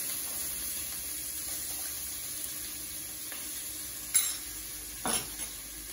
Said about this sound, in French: Vous mettez un peu d'huile d'olive au fond de votre casserole. Vous y ajoutez des oignons.